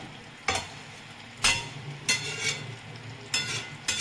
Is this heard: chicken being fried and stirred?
yes